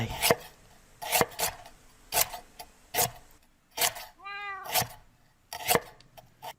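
A cat meows once with a clear rising, wavering call, set among sharp clicking and tapping sounds from play in the Noah – SkyRealms game.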